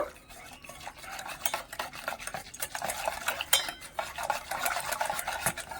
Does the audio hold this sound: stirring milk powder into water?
yes